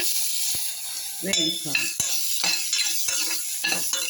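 Vegetables stir-fried in a pan with mustard seeds, chilli, mint and turmeric, heard as a steady close sizzle broken by repeated sharp scrapes and knocks of a spoon against the pan.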